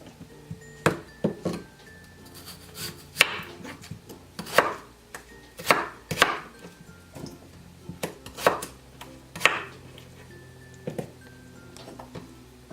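Knife chopping potatoes into bite-sized pieces on a cutting board, about a dozen sharp, separate strikes at an uneven pace, close and fairly loud, with no talk.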